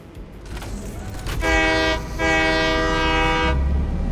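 A video game train horn sounds in two drawn-out blasts over the steady rumble of a freight train rolling along the rails in Satisfactory.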